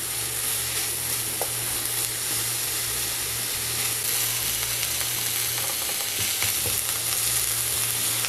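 Ground meat for sloppy joes sizzles and crackles loudly in a very hot pan, a dense, constant frying hiss with occasional pops from the stirring, and no voices over it.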